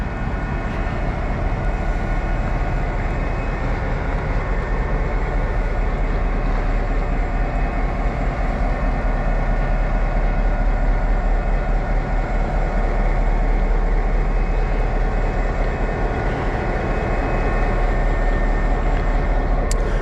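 Loud, steady rumble of the Northern Lights Express train riding along, a constant low roar with rattling texture that holds without pause throughout.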